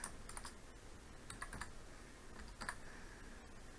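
Code being typed on a computer keyboard, quick bursts of light key clicks separated by short pauses, faint and close with no speech.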